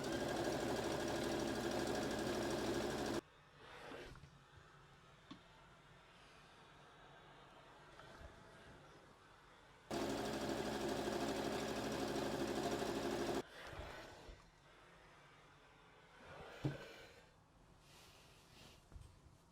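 A sewing machine stitches a French seam on a Japanese samue jacket in two loud, steady runs of about three seconds each, close by, separated by quiet fabric handling.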